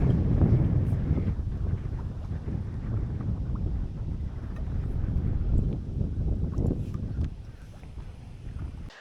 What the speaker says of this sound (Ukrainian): вітер піднімається такий сильний